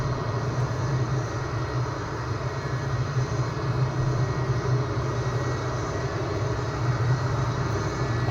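Vautour IIN jet aircraft coming in to land in Microsoft Flight Simulator, a steady loud engine roar with a low droning hum that holds evenly throughout, with no talking.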